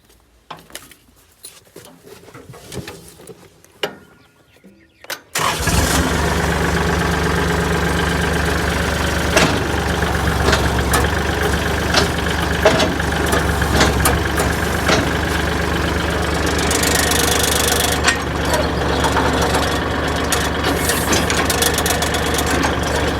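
After a few seconds of quiet clanking and handling, the engine of a used tractor with failing hydraulics starts running loudly and steadily nearby, with a knocking chug and occasional metallic clanks as the front and rear are raised.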